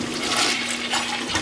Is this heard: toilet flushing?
yes